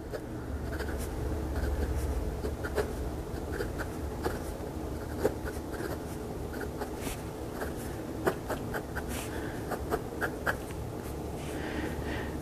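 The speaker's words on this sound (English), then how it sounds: "I'm going to be quiet and let you hear how this pen writes." An SKB F20 extra fine fountain pen writes on paper with soft, close scratchy strokes and small ticking taps in an irregular rhythm, quiet and alone, with no voices.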